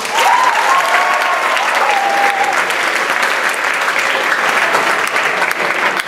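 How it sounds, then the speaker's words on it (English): School audience applauding after senior speeches, dense loud clapping from a crowd that stays strong for the whole stretch, with a brief whistle near the start. "Let's give one more round of applause to our final 3 senior speeches."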